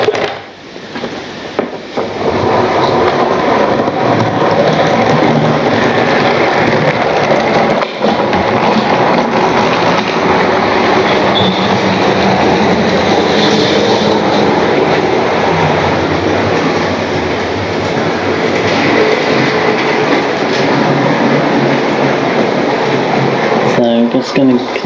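A model railway train rolling steadily around its track layout, a continuous close rumble with faint rhythmic clicking over the rail joints, joined by someone talking throughout.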